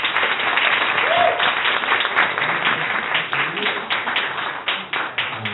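Audience applause breaks out at a coworking-space pitch and networking event, a steady wash of many hands clapping close by that slowly thins toward the end, with a voice briefly audible.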